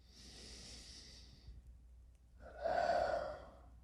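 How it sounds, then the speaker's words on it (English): Two deep breaths during a pranayama mindfulness meditation: a long hissing inhale through the nose, a pause, then a louder, fuller exhale, close and clear with no talk. "So 3 deep cleansing breaths."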